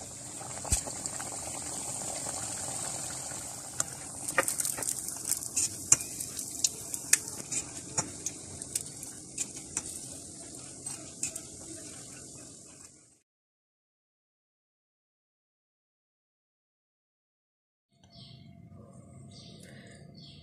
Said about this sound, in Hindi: इसी तरह से बाकी जो हमारे पास है इनको भी आहिस्ता आहिस्ता इस तरह से लाइट गोल्डन कलर में फ्राई कर